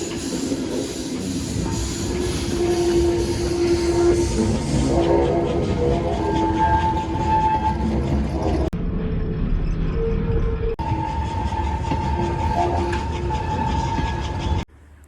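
Steam tram running on rails in Medemblik, Netherlands, a steady loud rumble of carriages with rolling wheel noise and tonal squeals throughout, continuous and close, with no talking.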